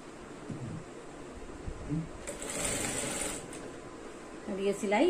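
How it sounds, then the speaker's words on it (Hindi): A sewing machine stitches an invisible zip onto a gown, a soft, steady mechanical whir running for a few seconds at low level with faint rustling of fabric. "ये सिलाई यहां से लगाते जाऊंगी चैन पे"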